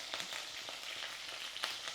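Curry leaves tempering in hot oil with mustard seeds, cumin and fenugreek leaves for an egg curry, giving a steady soft sizzle with faint crackling pops, moderately quiet and with no talking.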